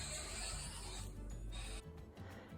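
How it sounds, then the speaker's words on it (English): Close, continuous scraping and rasping as old deck boards caked in grease and grime are sanded outdoors, a steady abrasive rub that shifts and thins partway through, with no talking. "So I'm sanding all that off."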